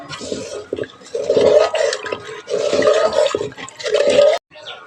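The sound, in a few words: pouring water into mustard fish curry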